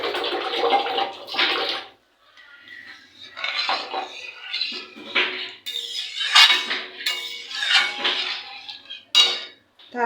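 Water is poured into a pot of khadhi during cooking, splashing and rushing in uneven bursts mixed with clinks of utensils against cookware, close and fairly loud.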